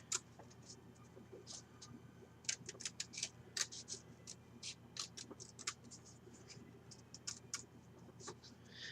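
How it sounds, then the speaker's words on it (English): Scissors snip through paper and cardstock while cutting layered circles for a shaker tag, giving a string of quick, faint, irregular clicks up close. "I cut down the center of it so I can get my scissors in there"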